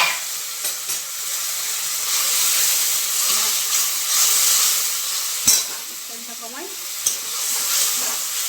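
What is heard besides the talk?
oil frying in a pan with tomato and water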